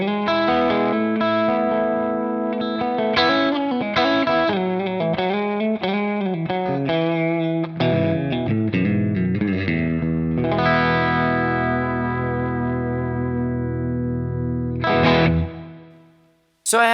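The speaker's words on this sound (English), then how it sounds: "Now let's see what it sounds like with this compressor on." Electric guitar played through a compressor pedal with a little reverb, strummed chords and single notes ringing steadily with even, squeezed dynamics, then a long sustained chord fading out before a final stab.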